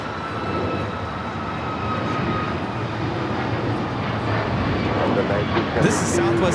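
Southwest Airlines Boeing 737 MAX 8 jet taking off from Los Angeles LAX bound for Houston Hobby, a steady broadband engine roar holding level throughout, with faint voices underneath.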